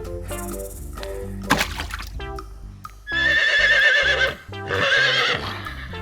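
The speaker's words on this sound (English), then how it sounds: "Horse." A horse neighs in two loud, shrill whinnies over light cartoon music, with a short clatter of hoof-like clip-clop sounds before the calls.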